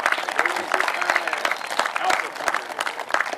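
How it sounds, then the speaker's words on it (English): An audience at a political rally in King, North Carolina, gives a round of applause: dense, crackling clapping from many hands fills the space, sustained and fairly close for the whole stretch. "A round of applause."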